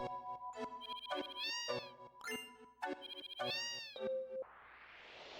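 A video game cat gives a run of cute synthesized meows as it is petted, several quick chirpy cries in a row, closing with a held tone and a burst of airy hiss.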